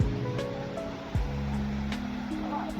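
Sea waves roar and wash steadily at Guliakhali beach near Sitakunda, a continuous broadband surf rush with a low rumble beneath, close and fairly loud, with no talk.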